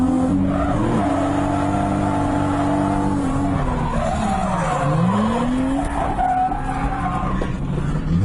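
A car drifts around a track, its tires skidding and squealing in long sweeping tones over a loud, continuous engine roar that rises and falls with throttle.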